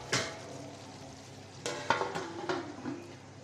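Beef curry with garam masala, cooked with pointed gourd, is stirred in a pan: a soft sizzle with a few scraping strokes close by over a few seconds, with no talk.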